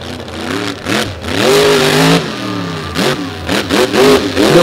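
A monster truck engine revs hard at a beach show, loud and continuous, with rising and falling pitch as the spinning wheels churn.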